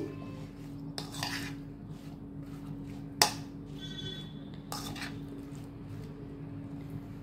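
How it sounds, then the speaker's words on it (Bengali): Okra being mixed with oil in a bowl, a quiet background of soft squishing and stirring with a few clinks of utensil on the bowl, one sharper tap standing out midway. "তেলটা ঢেলে আরও একবার ভালো করে ঢেঁড়সের সাথে মিক্স করে নিচ্ছি"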